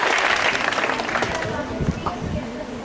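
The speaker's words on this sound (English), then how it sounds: "Give a big round of applause." A round of audience applause fades out as clapping thins, and a voice begins talking over the tail end.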